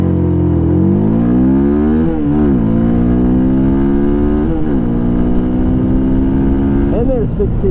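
A Hyosung GD250R 250cc motorcycle accelerates hard from a standstill toward 60 mph, its engine note climbing steadily through each gear, then dropping briefly at every upshift before rising again, loud and close with constant wind rush.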